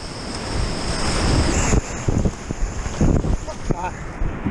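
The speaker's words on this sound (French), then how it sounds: "Il faut rester sur la droite de la rivière parce qu'il y a des grosses vagues." Whitewater rapids on the Vézère river near Treignac roar around a boat running through big waves, a loud continuous rush of churning water and splashes buffeted by heavy wind noise on the microphone.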